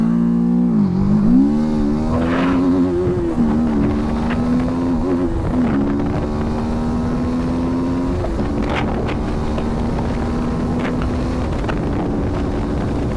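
A TVS Apache RTR 310 motorcycle pulls away on launch control in first gear at full throttle. A loud, steady engine drone rises in pitch and holds, with wind rush over the microphone throughout.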